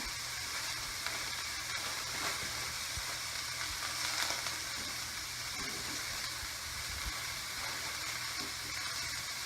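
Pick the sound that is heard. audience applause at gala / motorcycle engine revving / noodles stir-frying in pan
noodles stir-frying in pan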